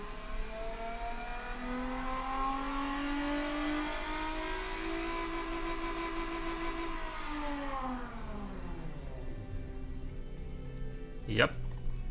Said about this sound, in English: V6s sound pretty good in this game.